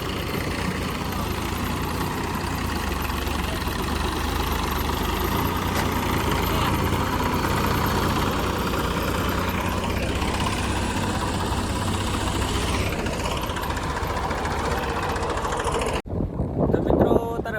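A tractor engine idles nearby with a steady low rumble throughout, its tone ending abruptly near the close.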